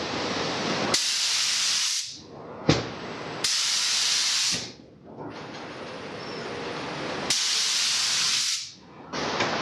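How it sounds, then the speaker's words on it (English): Loud bursts of aerosol spray paint hiss in long blasts of about two seconds each onto metal motorcycle parts, separated by brief pauses, close to the listener with no talking. "What I'm going to do, just keep spraying."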